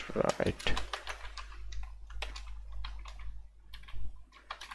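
Quick, close keyboard typing in irregular clicky bursts runs beneath a voice as he writes JavaScript code in a web editor.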